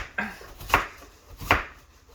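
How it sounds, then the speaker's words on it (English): A big knife chops through an onion on a board in a home kitchen, with three separate crisp cuts spaced roughly evenly and heard up close, alone and without talk. "So then you start chopping this onion"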